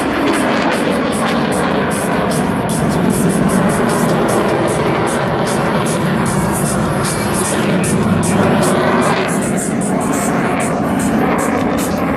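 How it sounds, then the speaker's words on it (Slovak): A Czech JAS-39 Gripen jet fighter flies its air show display, a loud, continuous roaring engine rush that holds steady throughout with slight swells, heard from the crowd line. "Vystúpenie českého Gripena sa nám pomaličky chýli ku koncu."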